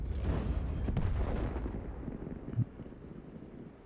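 A tank gun fires in World of Tanks, and a deep rumbling blast fades over a few seconds, followed by a short thud. It sounds loud and heavy, with no voices.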